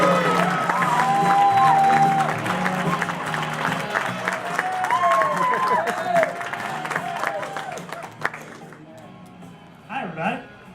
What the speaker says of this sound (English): I want everyone to give a big round of applause for Robbie Hockett.